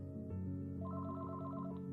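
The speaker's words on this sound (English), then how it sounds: "Just then, the landline phone rang, and Barbara shook her head." A landline telephone rings as a sound effect, a steady electronic trill that keeps going through the clip, loud and clear with no voices.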